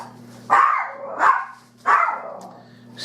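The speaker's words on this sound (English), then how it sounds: "Excuse my dog, y'all." A dog in a home kitchen gives three loud, separate barks about a second apart, close by over a steady low electrical hum.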